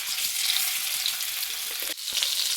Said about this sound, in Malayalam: നമുക്ക് മീൻ പൊരിക്കാനിടാം കേട്ടോ